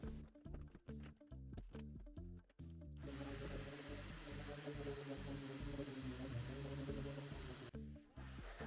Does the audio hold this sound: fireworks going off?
no